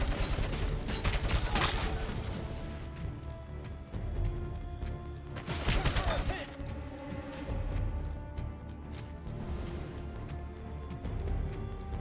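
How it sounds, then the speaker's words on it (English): Anti-air gun blasting in the video game Robocop Unfinished Business, a dense, busy stream of rapid gunfire bursts with heavier volleys, layered over mechanical game noise and steady background music, with no talking. "This is an anti-air gun."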